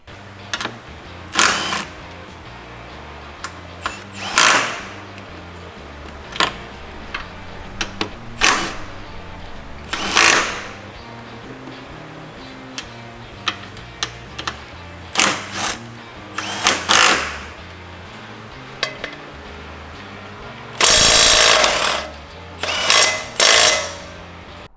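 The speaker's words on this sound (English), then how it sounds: "showing these tools being used real quickly on various fasteners" Milwaukee M12 Stubby impact wrenches rattle in short sharp hammering bursts as they drive various fasteners, close and loud against a quiet background, with one longer burst near the end and no talking.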